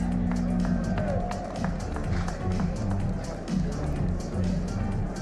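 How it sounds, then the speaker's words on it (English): A crowd at the WRC Croatia Rally opening ceremony cheers and claps for rally drivers, a dense, continuous wash of applause and tapping with a voice talking over it. "A big cheer for our drivers!"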